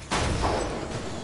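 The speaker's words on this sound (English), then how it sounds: "Fire me cannons! And destroy this scalawag!" A pirate cannon fires in a LEGO Ninjago video game, one loud booming blast that hits abruptly and then rumbles on, filling the brief moment alone.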